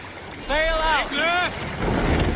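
Viking ship sailing in Assassin's Creed Valhalla, a steady wash of wind and water under the hull; a voice calls out over it briefly.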